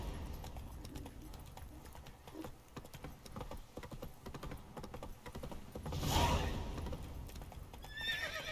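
Geralt's horse Roach whinnies loudly midway through in The Witcher 3, with hooves clopping throughout. Clicky tapping runs underneath, and a faint voice is heard.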